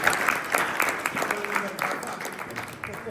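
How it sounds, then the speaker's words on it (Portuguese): Audience applause at a municipal assembly in Braga, a steady patter of clapping lasting a few seconds with some voices mixed in. "Uma salva de palmas também, acho."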